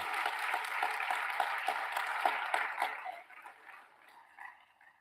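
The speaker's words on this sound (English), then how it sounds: "Give yourselves a hand clap. And we'll give you one too." At a graduation ceremony for manufacturing students, a crowd claps in a dense, moderately distant wash that thins out and fades to scattered claps near the end.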